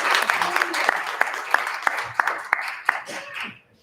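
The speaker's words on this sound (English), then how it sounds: "Give him a round of applause again." Audience applause at a youth gathering, a brisk run of hand claps with about a dozen distinct sharp claps standing out over steady clapping and some background voices, fading out abruptly at the end.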